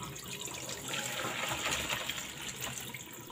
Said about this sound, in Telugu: మనం ఇప్పుడు ఈ చిల్లుల జారు ఉపయోగించి మనం వాటర్ని వడబోసుకుందాం